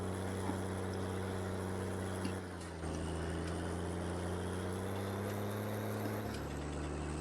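A tractor engine idles steadily in Farming Simulator 19 while it refuels at a small farm diesel pump, a low, even hum with a faint mechanical whir, briefly dipping before settling at a slightly different pitch.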